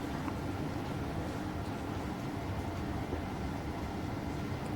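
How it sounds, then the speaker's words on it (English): A model GG1 electric locomotive running on a model railroad layout, giving a steady, continuous low rumble and whir that stays even throughout without talk. "here shortly the GG1 will come back around"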